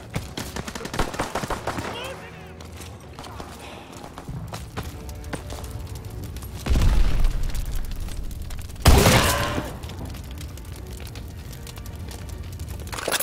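Call of Duty: WWII battlefield gunfire, dense rattling shots and machine-gun bursts with heavy booming impacts and a sharp loud blast near the end, all close and continuous, with shouted voices mixed in.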